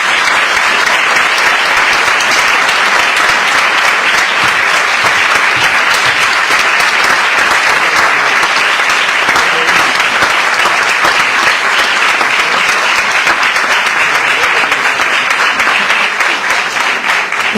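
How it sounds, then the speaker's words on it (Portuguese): An audience at a book launch for a volunteer fire brigade association's centenary claps in loud, dense, sustained applause that stays steady for a long stretch, with faint crowd murmur underneath. "Uma salva de palmas, por favor."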